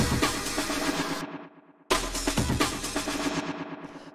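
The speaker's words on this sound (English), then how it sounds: "I have this other drum break, which is just kind of a fill down here" A pitched-down drum break plays as a busy fill in warped rave music, cutting out briefly before resuming with dense, loud, rapid hits and no voices.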